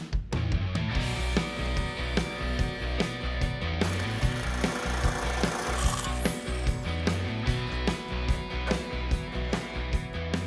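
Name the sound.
cutting and folding sheet metal strips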